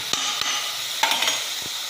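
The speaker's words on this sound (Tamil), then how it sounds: "நல்லா வதங்கி வருது" Salted onions sautéing in a pan for chicken gravy, a steady close sizzle with a few soft stirring knocks from a spatula.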